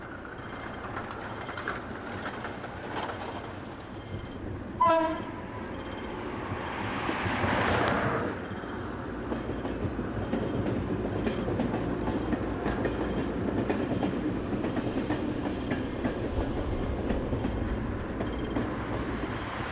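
Train unit 0651 on a service from Barreiro approaches a station, its rolling rumble and rail clatter growing steadily louder over a long stretch. A brief squeal cuts through partway, and the noise builds into a broad, continuous roar.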